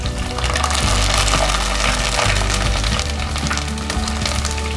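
Curry leaves drop into hot oil alongside slit green chillies while making Kerala fish mulakittathu, producing a loud, steady crackling sizzle with bubbling texture that stays dense throughout.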